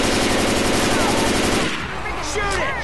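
Rapid automatic gunfire rattles loudly in the zombie shooter Left 4 Dead 2 during a survival round in a mall atrium, a dense burst that drops off near the end as voices and other game noise take over.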